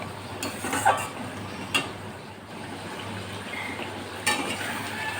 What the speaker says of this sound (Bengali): আমি এখানে একটু লঙ্কার গুঁড়ো দিয়ে দিচ্ছি, ভালো করে কষিয়ে নেব।